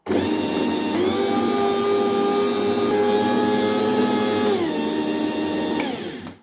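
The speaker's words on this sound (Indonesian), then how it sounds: "Ini masih kurang ya, sedikit, kita mixer lagi." Electric mixer kneading sweet whipped-cream bread dough, a steady loud motor whine with a shifting pitch that drops near the end before the motor cuts off, running alone with no talk.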